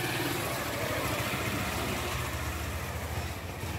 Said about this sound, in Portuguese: Moto aqui passando na rua.